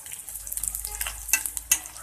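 Onions frying in oil, giving a quiet crackling sizzle close by, broken by a few sharper pops and the scrape of stirring.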